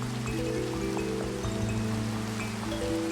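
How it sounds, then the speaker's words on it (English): Steady rain falls across a mountain landscape in Minecraft, a constant soft patter with no talk over it and no pause throughout. "Climbing the mountains in the rain."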